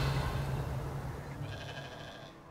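A goat in the video game Hogwarts Legacy lets out a drawn-out bleat, moderately loud and close, over a steady low ambient hum.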